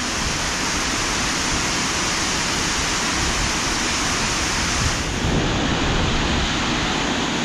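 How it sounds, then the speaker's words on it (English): Gayle waterfall pours down amid heavy rain, a dense, steady, loud roar that fills the whole stretch without pause or voices. "the power of the water pushing down over a waterfall brings a draft of air with it as well"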